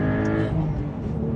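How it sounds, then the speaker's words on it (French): Engine of a Porsche 911 on a small mountain road, a steady droning tone with layered harmonics that shifts pitch briefly before settling, heard close and fairly loud. "Quel son et quel caractère moteur"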